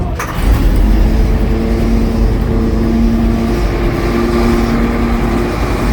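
A gasoline engine starts with a short burst of cranking and then settles into a steady, loud, close-up idle with a constant droning hum. No one speaks.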